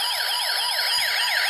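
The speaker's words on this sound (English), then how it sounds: "The speaker makes a police car siren sound, even though technically the integrated circuit is producing the sound." An electronic circuit kit's integrated circuit drives a small speaker producing a police-style siren, loud rapid rising-and-falling wails repeating continuously with a thin, buzzy tone and no talking.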